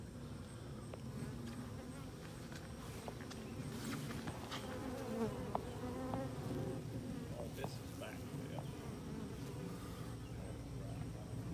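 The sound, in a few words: honey bee swarm buzzing on wood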